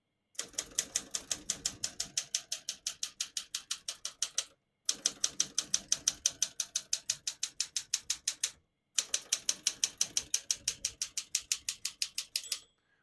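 Typing on a 1965 Olympia SM7 vintage portable typewriter: three close bursts of rapid, even key strikes, each a crisp metallic clack, separated by short pauses, with no voices.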